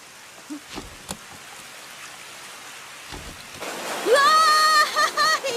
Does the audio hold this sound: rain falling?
yes